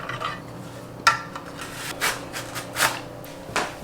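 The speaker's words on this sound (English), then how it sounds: "I want the fennel cut really thin, so I'm going to use a mandolin." Fennel sliced thin on a mandolin: a run of brisk rasping strokes, close and fairly loud, repeating at an uneven rhythm of roughly one every half second with no voices.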